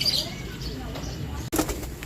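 Racing pigeons come in to their loft at the end of a sprint race, with soft cooing, a burst of wing flapping and faint chirps close by, while voices talk at moments.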